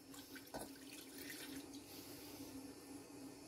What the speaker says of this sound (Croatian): Dodajemo jednu šoljicu vode.